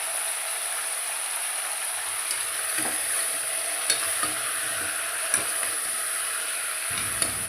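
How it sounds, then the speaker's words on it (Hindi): Continuous bright sizzle of fenugreek seeds frying in hot mustard oil, with a few soft pops and light stirring clicks over the hiss. "सरसों के तेल में लगा लिया मैंने इसको, हाँ तड़का लगा लिया था, मेथी दाना डाल दिया था मैंने"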